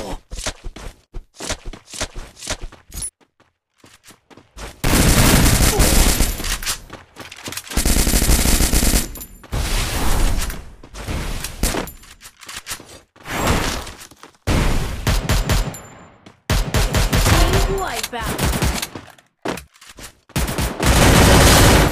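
Rapid bursts of automatic gunfire from the mobile battle-royale game Free Fire, played on a gaming phone. The shots come loud and dense in long stretches, separated by brief quieter gaps with footsteps and small clicks.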